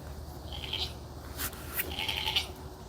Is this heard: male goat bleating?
yes